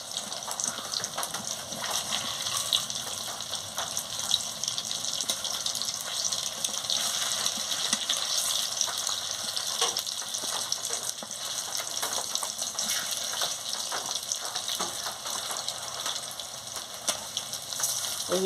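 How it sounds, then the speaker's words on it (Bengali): Fritters (bora) fry in oil in a kadai on a clay stove, with a continuous, close, even hiss and crackle, steady throughout and free of talk. "এবারে লাল লাল করে ভাজা হয়ে গেছে"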